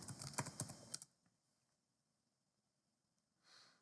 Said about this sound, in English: So I'll type here email.